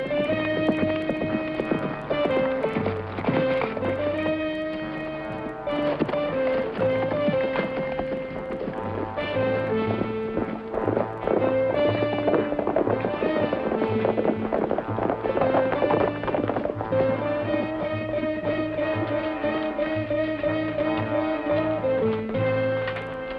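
A horse gallops away through brush in an old Western drama, quick clip-clop hoofbeats layered under a dramatic orchestral score that stays loud for the whole stretch.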